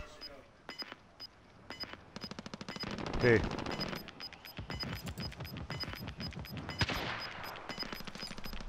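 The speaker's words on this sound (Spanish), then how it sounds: "Pegando tiros, ¿eh?" Rapid bursts of automatic video game gunfire crackle in short volleys throughout, some loud and close, others quicker rattles, while players talk over the shooting.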